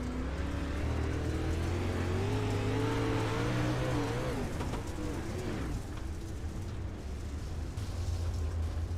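Race car engines in a sim racing video game at Weedsport speedway, a loud sustained roar with pitch sweeping up and down as cars come in, then a dense rumbling drone.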